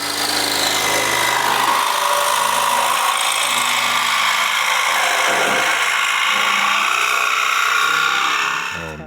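Oscillating multi-tool cutting metal on the floor of a 1937 Lincoln Zephyr, a loud, harsh, continuous buzzing grind lasting several seconds and then cutting off abruptly.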